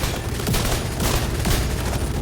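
Rapid automatic gunfire from a weapon in The Division 2 during a PvP match, a dense continuous burst of shots at steady volume throughout, with no talk over it.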